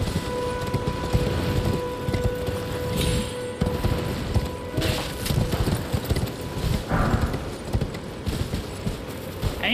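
A horse gallops in the video game Elden Ring, with loud, continuous rhythmic hoofbeats alongside wind and a faint siren-like tone, and no talking.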